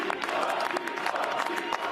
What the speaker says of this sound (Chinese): 接受大家支持者的欢呼